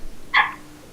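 A single short, sharp dog bark rings out once over quiet background, heard during a Minecraft chat session.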